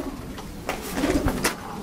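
Young racing pigeons cooing inside a breeder's loft, soft low murmuring coos rising in the middle and trailing off, with faint rustling around them and no talking.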